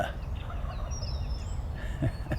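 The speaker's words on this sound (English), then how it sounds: "turkeys are gobbling still." Wild turkeys gobble outdoors near an old roost tree during a California turkey hunt, several rattling calls carrying from a distance over steady ambient noise, with a stronger burst near the end.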